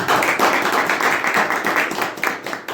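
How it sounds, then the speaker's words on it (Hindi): A congregation at a Christian worship gathering claps loudly and close up for the Lord, a vigorous rush of overlapping hand claps that stays strong and slightly uneven for the whole stretch. "एक अच्छा ताली बजाएं प्रभु के लिए"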